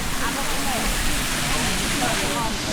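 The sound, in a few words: small waterfall on a trail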